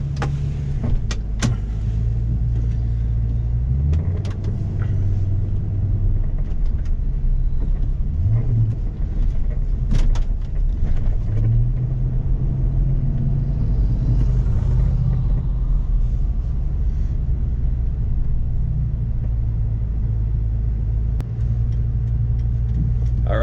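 A Ford Excursion engine idles and runs steadily with a deep, continuous low rumble heard from inside the vehicle, with light clicks and small shifts in tone throughout.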